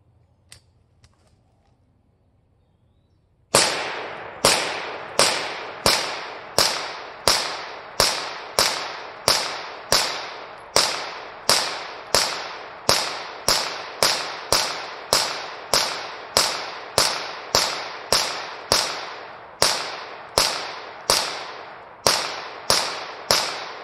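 A Banshee gun fired outdoors in lush woods, after a few seconds of quiet a long run of loud, sharp, evenly spaced shots rings out in rapid succession, each with a short echoing tail.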